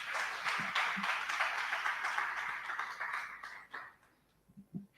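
An audience at a 2023 CyberGirls orientation ceremony applauds with a steady, dense wash of clapping that holds for about four seconds, then thins out and fades to scattered claps.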